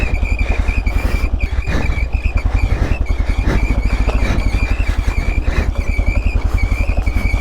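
An adventure motorcycle engine runs loud and close at a steady, rough idle with a rapid pulsing beat and a persistent high whine over the top.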